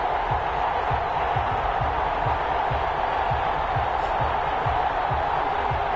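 A stadium crowd roars in an NFL video game before the Buffalo Bills face the Indianapolis Colts, forming a steady wash of cheering with rhythmic low thumps beneath it, even and continuous throughout.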